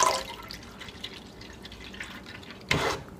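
Milk poured for a single-serving blueberry banana milkshake. One brief, splashy pour bursts out near the end after a stretch of quiet room tone with faint ticks.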